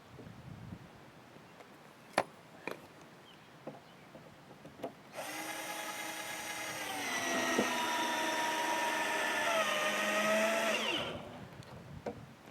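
A power drill drives a screw into a wooden post of a raised garden bed, whirring steadily for about six seconds after a few faint knocks, its pitch dropping slightly near the end before it stops.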